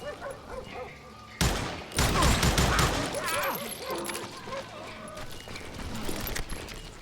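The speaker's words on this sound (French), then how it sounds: "on me tire encore dessus" Gunfire in the Western shooter Call of Juarez: Gunslinger, heavy broadband shots bursting in after a quieter stretch and continuing in a dense, irregular volley under a talking player.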